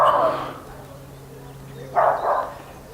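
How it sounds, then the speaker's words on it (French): A dog barks far off, with one bark at the start and a pair of muffled barks later, faint against a quiet outdoor background hum. "un chien au loin."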